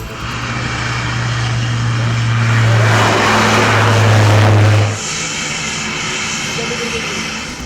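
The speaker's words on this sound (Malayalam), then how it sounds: "കണ്ണൂർ വിമാനത്താവളത്തിൽ ആദ്യ വിമാനം ഇറങ്ങി. പരീക്ഷണ പറക്കൽ നടത്തിയത് വ്യോമസേനയുടെ ചെറുവിമാനം." A small air force aircraft lands at Kannur airport, its engine drone loud and steady, swelling to a peak before cutting off sharply about five seconds in, leaving lower background rumble.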